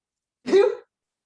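A single short sneeze, close and fairly loud, lasting under half a second, with silence before and after.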